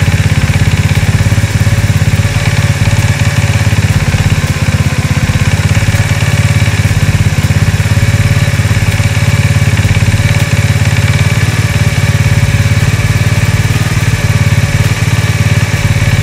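A Honda XRM/Wave motorcycle engine idles steadily during carburetor tuning, a loud, even putter at constant RPM close by, continuous and without talk.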